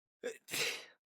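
A single sharp sneeze, close and fairly loud, with a short intake before the explosive burst; no talking.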